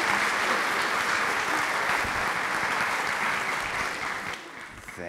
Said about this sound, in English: We can give him a warm round of applause.